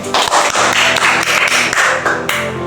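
Classmates in a school classroom clapping for a student who answered correctly, a close, dense burst of hand claps lasting a couple of seconds before tapering off.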